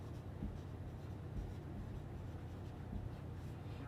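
Writing on a board during a lecture on gear trains, faint soft scratchy strokes over a low room hum, steady and quiet without talk.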